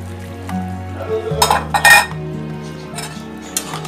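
Beef and potato curry stirred in a pot, a utensil scraping and clinking against the metal in a few bursts over a steady low hum, with a louder clatter midway.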